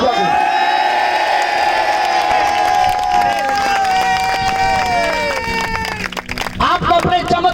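A church congregation cheers and shouts loudly in a sustained crowd roar, with whoops rising above, then a burst of clapping breaks out near the end. A voice speaks over the noise.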